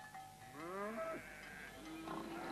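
A cow lets out a long, drawn-out moo with a wavering pitch, fairly faint and heard on its own.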